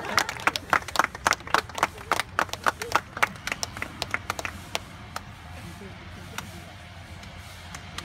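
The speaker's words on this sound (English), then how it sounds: "Give them a hand." Wedding guests at an outdoor garden ceremony clap for the newly pronounced couple, a burst of sharp, dense handclaps that thins into scattered claps and fades over several seconds.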